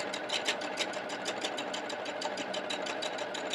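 Sewing machine running steadily while stitching through three layers of a pillow, a fast even mechanical chatter of needle strokes, close and alone with no pauses.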